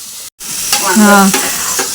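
Mashed roasted brinjal is mixed in a pan with green chilli, garlic and onion. It makes a short close burst of frying hiss with a squeaky, tonal scrape of the spoon in the middle, after a brief silent gap.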